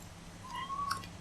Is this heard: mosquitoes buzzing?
no